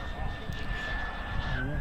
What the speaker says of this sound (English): Everyone can hear that this engine is surging